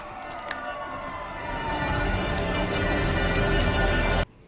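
Wailing emergency sirens rise and fall over a continuous traffic rumble, growing louder as they approach, then cutting off abruptly.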